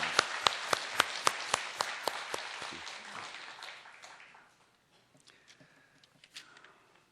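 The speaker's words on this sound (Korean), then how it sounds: "박수로 격려하고 환영하겠습니다" Congregation in a church worship service claps to welcome guests, a quiet, steady run of evenly spaced claps that fades out after about four seconds, leaving a few faint knocks.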